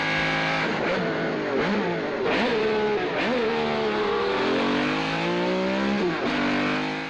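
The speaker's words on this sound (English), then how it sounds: "The car chase through Paris was inspired by the 1976 short film C'était un rendez-vous." A car engine screams through rising and falling gear changes during a high-speed chase through Paris streets, loud and continuous with sharp revs and shifts.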